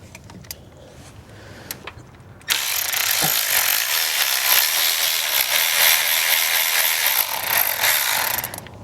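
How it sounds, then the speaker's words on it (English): A ratchet with a 10mm socket backs out ignition coil bolts on a 2016 Chevrolet Silverado 1500. Up close it makes loud, continuous rapid clicking that begins abruptly after a few quieter seconds and runs to the end. "you're going to take your 10mm socket"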